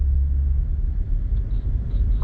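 A BMW M car at full throttle on the Spartanburg track gives a steady, loud, low engine rumble throughout without a break.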